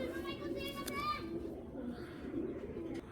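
Racing pigeons coo softly in a loft, low repeated calls near the mic, while someone talks over them.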